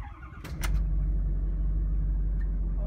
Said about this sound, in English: let's now try to start up the truck and see how it behaves